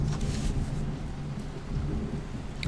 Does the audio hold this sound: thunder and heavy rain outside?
yes